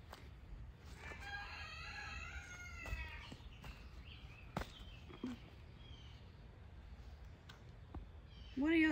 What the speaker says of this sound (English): Oh my gosh, look at these chickens.